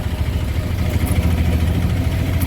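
An auto-rickshaw engine runs with a steady, rough low chugging in a Porbandar market street, continuous and close, with faint background bustle.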